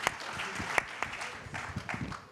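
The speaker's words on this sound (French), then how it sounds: "Charles, voilà, on va applaudir." Audience applause at a French conference session on creative destruction in the age of AI, fairly faint, with scattered individual claps and a few sharper hand strikes, loosening and thinning toward the end.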